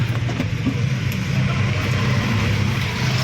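An auto rickshaw engine runs at a steady, close idle, its low throbbing hum constant throughout with no voices.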